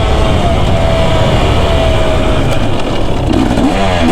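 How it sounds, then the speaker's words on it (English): A 2024 KTM 250 SX two-stroke dirt bike engine roars loud and close while being ridden, a dense steady rasp with a brief rev shift near the end. "I know I'm not riding this like strung out like a 2-stroke should be."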